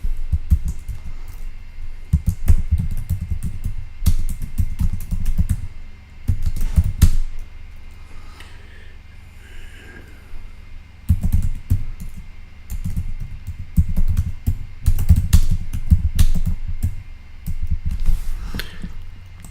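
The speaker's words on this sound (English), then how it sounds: "Hold on, I'm typing." Rapid clattering keystrokes on a computer keyboard come in bursts with brief pauses, close and fairly loud, over a low steady hum.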